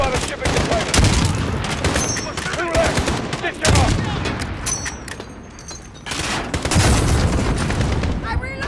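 Rapid rifle fire and booms from a firefight in Call of Duty: Modern Warfare (2019), with dense bursts of loud, close gunshots and heavy impacts, broken by short lulls, while voices talk over the action.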